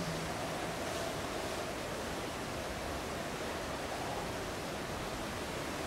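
Ocean waves in the horror video game NightCry make a constant, even wash of surf noise, fairly faint, with no voices and no distinct breaking crashes.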